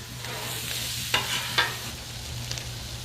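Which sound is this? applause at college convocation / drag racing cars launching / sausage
sausage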